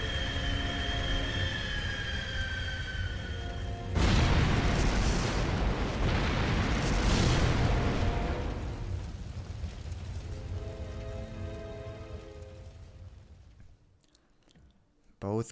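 Heavy explosions from an enemy attack in the Trails of Cold Steel video game erupt as a sudden loud blast, followed by several seconds of rumbling, crackling debris that slowly fades into quieter game music and a low hum.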